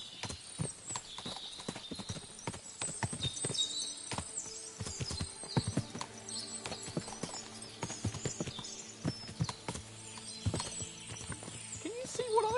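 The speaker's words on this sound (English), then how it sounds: "What a lot of horses! They must have cost a fortune." Horses in the Kingdom Come Deliverance 2 video game, with hooves clip-clopping irregularly on hard ground, faint and somewhat distant, plus occasional whinnies over a quiet background.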